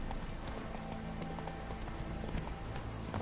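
Steady clip-clop of a horse's hooves at a riding pace in The Witcher 3, continuous and fairly close beneath a dense wash of background ambience.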